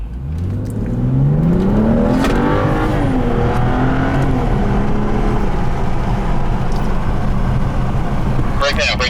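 A car comes toward the listener at 45 mph, its engine note climbing and holding a steady, loud drone before the brakes are applied near the end.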